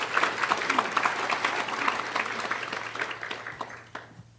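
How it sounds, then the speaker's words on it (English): Audience applause at a school ceremony honoring Native American graduating seniors, steady clapping from a room of people that fades out after about four seconds, with a low hum underneath. "So a round of applause for those individuals."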